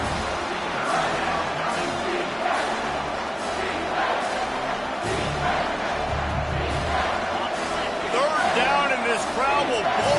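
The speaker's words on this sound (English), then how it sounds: "This crowd rising up, sensing that its defense needs some help." Stadium crowd at a college football game, Oklahoma versus Georgia, roaring steadily and swelling in waves, a dense wall of cheering with bursts of shouting, loud and continuous throughout.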